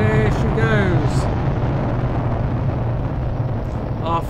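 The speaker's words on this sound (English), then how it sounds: "There she goes. Our first rocket of the season." Rocket lifting off in the Planet Crafter video game, a loud, steady rumbling roar filling the low end, with a voice talking over it at the start and again at the end.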